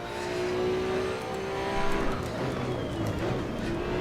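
Race car engine held under light, careful throttle in Assetto Corsa EVO, a steady close drone with a faint skid-like rasp as it turns into corners, running alone without talk.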